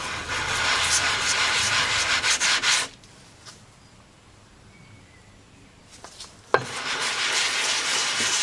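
An oil sharpening stone is rubbed back and forth on sandpaper to flatten it, giving a loud, close, rhythmic gritty scrubbing. A quiet pause with a knock follows, then the steady sanding strokes start again.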